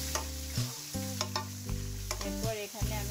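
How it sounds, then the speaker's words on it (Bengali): Onion and chili fry in a pan with a continuous sizzle, while a spoon stirs them in several scraping, clinking strokes spaced through the clip, with a low hum running underneath. "পেঁয়াজ মরিচটা হালকা আমি ভেজে নিচ্ছি"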